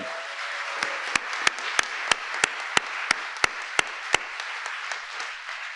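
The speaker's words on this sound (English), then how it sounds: "So we should give them a round of applause" Applause from a crowd at a labor union event with a presidential address fills the space evenly, with sharp individual claps standing out at a regular pace over the broad wash of clapping.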